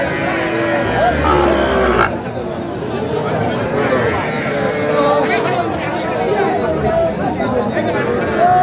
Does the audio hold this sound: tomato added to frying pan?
no